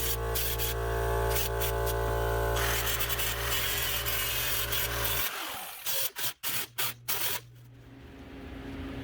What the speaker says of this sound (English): how I just used my grinder to grind off the proud of it